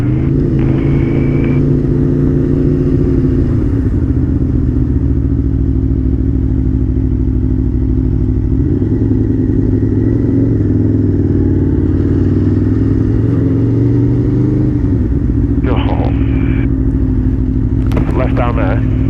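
A motorcycle on a European road trip runs steadily, its engine droning loud and close as it slows and turns around, with short shifts in pitch and a few brief clattering bursts near the end.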